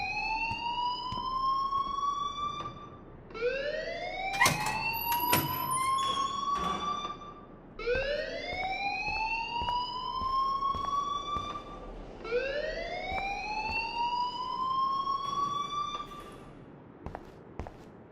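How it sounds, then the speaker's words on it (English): A school alarm in Life is Strange wails in repeated rising sweeps, each siren-like whoop climbing and falling back, cycling steadily over faint background ambience. "please turn off that alarm since that's your job"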